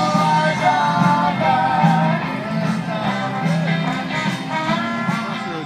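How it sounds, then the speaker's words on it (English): Music plays in the background at an outdoor Alzheimer's Association walk near the Capitol building, with a continuous mix of instruments and crowd noise and no clear foreground voice. "you can hear the music playing in the background"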